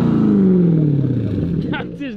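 A Jaguar F-Type R with a custom exhaust running 2.5-inch pipe back from the particulate filter revs loudly up close, its roar sliding steadily down in pitch as it settles, with a brief voice near the end.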